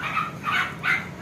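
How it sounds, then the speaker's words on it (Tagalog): Dogs bark at a distance outdoors near a bird area, three rising yelping barks in quick succession over a soft noisy background. "maingay mga aso."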